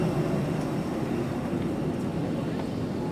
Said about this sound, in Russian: Ну что, только сели, уже взлетаем.